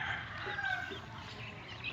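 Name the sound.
chicken or rooster sounds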